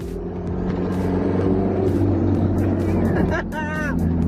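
A Mitsubishi Eclipse 2G engine, tuned with an AEM FI/C and running about 3 PSI of boost, pulls hard at full throttle with a loud, steady, droning roar, while a voice briefly calls out over it near the end.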